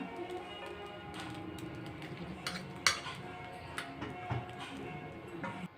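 Spoon stirring ghee-fried raisins into sweet sugar pongal in a pressure cooker pot, with repeated light metallic scrapes and taps against the vessel, close and fairly quiet, with a low background hum.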